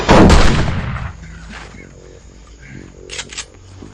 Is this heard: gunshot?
yes